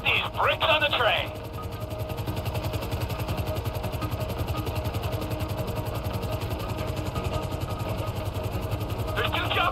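Two helicopters in the game Grand Theft Auto V approach a train, their rotors a steady close throbbing drone that runs throughout, with a burst of other noise at the start and end.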